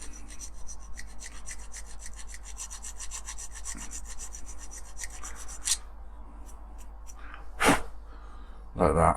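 A metal file rasps rapidly back and forth across the head of a rivet on a Dinky 351 SHADO Interceptor model being restored, close and steady for several seconds, followed by a few scattered scrapes and handling knocks.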